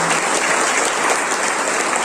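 Loud, dense applause from a crowd at an event in Jim Corbett National Park, Uttarakhand, a steady wash of clapping sustained throughout without a break.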